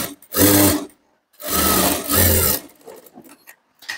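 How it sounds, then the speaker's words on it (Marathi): A sewing machine runs in two bursts, stitching down a blouse lining; the first burst is short and the second longer, each a steady close whirring drone, followed by faint handling noises. "आपल्याला इथे अस्तरवरती दाब शिलाई द्यायची आहे"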